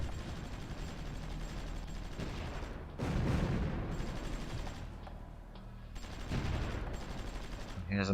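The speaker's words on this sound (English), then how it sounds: "Here's some heavy bombardment, but I'm not sure where that's happening." Heavy artillery bombardment in the strategy game Supreme Ruler Ultimate, a steady low rumble of distant guns and blasts that swells in two louder bursts, with spoken commentary running over it.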